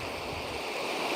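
Sea waves washing onto a beach, a steady soft broadband surf wash, faint and even, with no voices.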